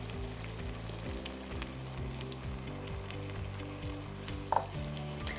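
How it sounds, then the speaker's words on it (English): Hot vegetable stock poured into risotto rice cooking in a pan, giving a quiet, steady sizzle and bubbling with one brief clink of a ladle, no voices. "now we're gonna add in some of that nice hot vegetable stock"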